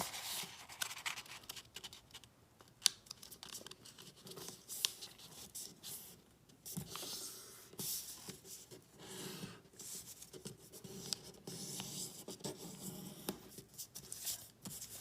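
Origami paper being folded into a canoe, with soft crinkling, rubbing and creasing of the paper flap continuing quietly and steadily throughout, close by with no talk.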